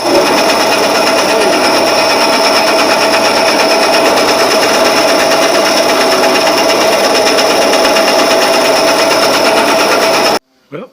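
A Craftsman 9-inch band saw runs with a loud, steady whining hum and motor drone for about ten seconds, blowing a pile of sawdust, then cuts off abruptly into near silence with a brief trailing noise.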